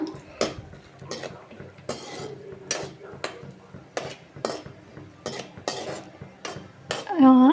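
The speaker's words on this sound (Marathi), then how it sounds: "व्यवस्थित हे फिरवतच राहायचं आहे." Semolina toasting in a pan for rava sheera, stirred steadily with a spoon that scrapes and clinks against the metal in quick, regular strokes about every half second, close and fairly loud.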